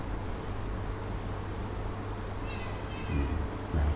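Cat meowing, a faint short meow rising over a constant low hum, followed by a couple of brief louder low sounds near the end.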